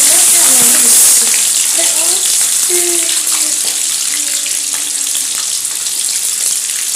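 Capsicum sizzling in a hot pan while cooking chicken, a steady bright frying hiss throughout with faint clinks and thin squeaky tones scattered over it.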